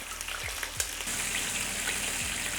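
Rabbit pieces for Maltese fried rabbit frying in hot oil, a steady close sizzle with a few soft thumps and stirring bumps, no talk.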